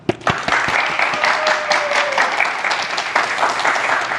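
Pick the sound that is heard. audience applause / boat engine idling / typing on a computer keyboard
audience applause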